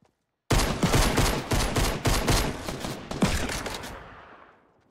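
Rapid automatic gunfire in Fortnite rattles out in a loud, close burst of repeated shots, tapering off into a fading echo.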